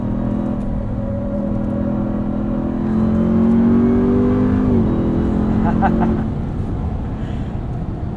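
A 2021 Ram 1500 TRX pickup accelerating on a street, its engine drone rising steadily in pitch, then a gear shift drops it before it climbs again, heard from inside the cab.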